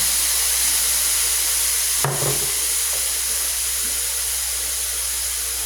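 A hot wok for stir-fried bean sprouts with chicken blood sizzles in a loud, constant hiss. A brief clatter and burst comes as an ingredient goes in, and the frying then carries on evenly.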